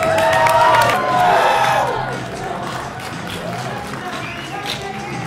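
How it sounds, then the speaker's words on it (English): Crowd at a Comic Con cheering and whooping for a 70s Joker cosplayer, loud and close with overlapping shouts and voices, dying down slightly after two seconds into a steady crowd murmur. "Give it a round of applause, guys."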